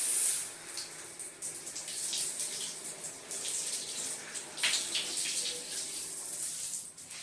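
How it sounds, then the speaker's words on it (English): Water spraying from a shower nozzle onto an air filter to rinse off dust and debris, a steady hissing splash with shifting intensity as the spray moves across the filter surface, fairly quiet and with no voices. "We will then use the shower nozzle to clean up all the dust and debris that is on the filter."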